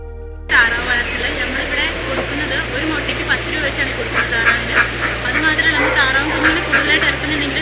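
A noisy flock of ducks, including broiler ducks, and geese honking and quacking close by on a farm, calls overlapping continuously with a low engine hum underneath.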